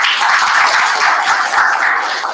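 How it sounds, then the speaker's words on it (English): A coworking-space crowd applauds steadily throughout, with dense, even clapping and no break, fairly loud and close. "A round of applause, please."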